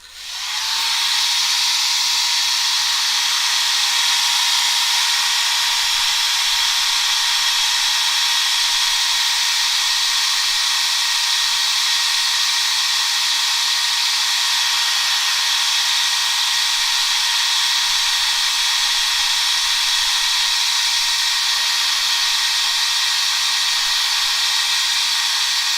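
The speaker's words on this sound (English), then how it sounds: "And now I'm going to go dry this layers." A hair dryer blows steadily and loudly on watercolor paint layers, a continuous whooshing hiss with a motor whine that starts at once and runs unbroken throughout, no voices over it.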